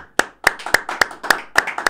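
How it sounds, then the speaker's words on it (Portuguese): A small group claps in a quick, loose rhythm, about eight sharp, close hand claps across two seconds with no talking, during a Papiamento broadcast. "Manda um aplauso."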